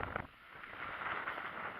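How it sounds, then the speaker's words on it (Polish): A faint, continuous rush of wind buffets the microphone outdoors on a farm, a low muffled roar with no talking. "trochę wieje wiatr"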